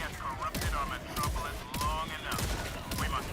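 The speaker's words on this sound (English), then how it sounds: "Shotguns are always fantastic, as you see me with one right now." Shotgun blasts boom in the Helldivers 2 video game, several heavy shots in steady succession over dense combat noise, with someone talking throughout.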